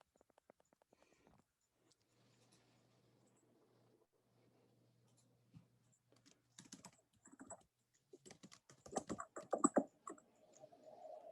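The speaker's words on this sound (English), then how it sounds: "Typing into the Chat box." Soft keystrokes on a computer keyboard tap out in short irregular bursts, quiet at first and then busier and louder toward the end, alone without talk.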